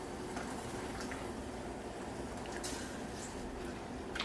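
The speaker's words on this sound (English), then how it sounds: "when it start boil, let it boil like for 5 minutes" Liquid boiling steadily in a pot while making sweet syrup for Egyptian konafa, a constant close bubbling roar with faint clicks, with no breaks from start to end.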